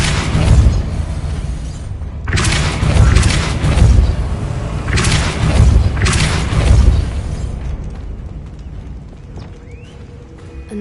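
Depulso spell impacts in Hogwarts Legacy, a series of loud, deep booming blasts with rumbling tails, several bursts in succession before fading into quieter ambience.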